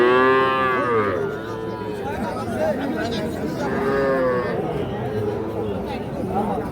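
Cross-breed bull calves and other cattle moo at a village livestock market in Ambari. Two long, drawn-out lows rise above a constant murmur of nearby voices and crowd bustle.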